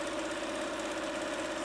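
A sewing machine running steadily while stitching the edge seam of a fabric face mask, a continuous even mechanical hum throughout, close and without speech.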